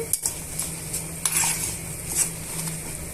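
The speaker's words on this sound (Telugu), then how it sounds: "ఇలా అన్నీ కూడా వన్ మినిట్ వేగనిద్దామండి" A utensil scrapes and clinks against a pan while okra and spices fry for a pickle, soft sizzling under irregular metallic taps and stirring strokes, close and moderately loud without speech.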